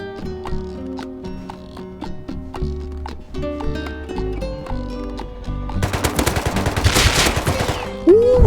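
AK rifle fire in the game Rust crackles as rapid, repeated sharp shots in quick bursts, with a denser, louder stretch of overlapping gunfire toward the end.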